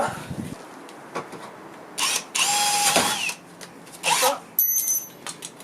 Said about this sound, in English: I think I'll start with a ordinary drill bit.